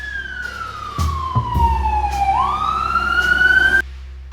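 Children's voices imitate a fire truck siren, a sustained wailing tone that falls and then rises again, loud and close, with a few short bumps along the way.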